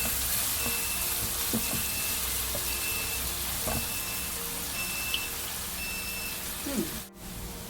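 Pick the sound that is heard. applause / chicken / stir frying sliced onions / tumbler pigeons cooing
stir frying sliced onions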